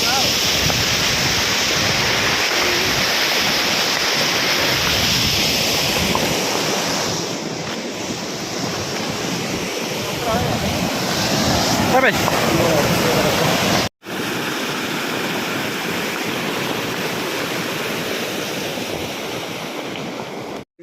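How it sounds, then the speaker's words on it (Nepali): River water rushing along a Nepali stream, a loud continuous roar with wind buffeting the microphone and a brief voice heard in the middle. "खोला आइसक्यौँ, देख्न सक्नुहुन्छ अगाडि खोला।"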